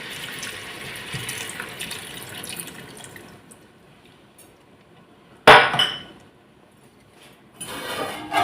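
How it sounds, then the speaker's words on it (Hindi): Half a cup of water is poured into a pan of frying potatoes, carrots and peas, with a sudden loud splash and hiss after a quieter stretch of low sizzling and faint clinks. "अब इसमें आधा कप पानी डाल देंगे।"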